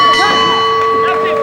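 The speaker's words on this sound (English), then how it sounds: "There's the bell. That's the end of round 6." A boxing ring bell rings to close round six of a women's junior featherweight title fight, a sustained metallic tone ringing through crowd noise and commentary.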